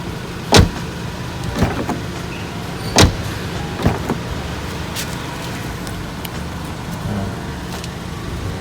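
Rear door of a 2007 Suzuki Grand Vitara JLX being worked: a few sharp clunks and latch clicks spaced a second or two apart, close and moderately loud over a low steady background.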